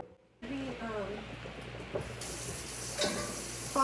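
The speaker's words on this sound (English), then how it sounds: "faucet water, that's no problem." Kitchen faucet water runs steadily into a sink while gorditas are being made, a continuous hiss that starts after a brief quiet moment and carries on with faint clatter and a voice talking over it.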